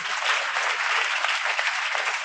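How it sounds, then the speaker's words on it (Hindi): Steady audience applause at a Hindi poetry recital, a dense even wash of many hands clapping throughout the short stretch with no voice over it. "तालियां बजाएं।"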